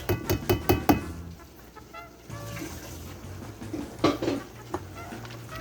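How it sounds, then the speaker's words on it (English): Dishes are washed in a home kitchen: a quick burst of clinking knocks, then running water and scattered clatters of pots and cutlery, moderately close. "You hear noise in the background, it's me doing dishes."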